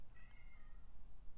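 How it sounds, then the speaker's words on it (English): A pet cat meows faintly in the background of a quiet indoor room, one drawn-out high mew with no voices over it. "I'm sorry if you guys can hear my cat in the background"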